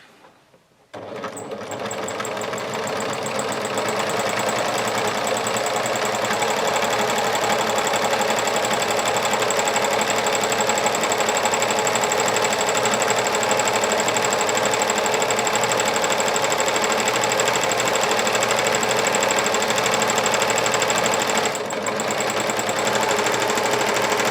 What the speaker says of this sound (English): I'm going to do a 1/16 of an inch top stitch